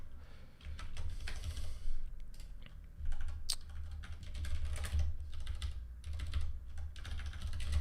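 Steady computer keyboard typing while erasing Rust code during a live programming session, a quick continuous patter of key clicks throughout with bursts of faster keystrokes and no talking.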